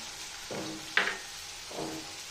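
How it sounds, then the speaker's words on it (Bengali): Potatoes and green chillies frying in a pan give a low, steady sizzle with three spoon strokes against the pan, the middle one a sharp clink, close by and with no voices. "আলুটা আমি একটু ঢেকে ভাজবো, তাহলে নরম হয়ে যাবে।"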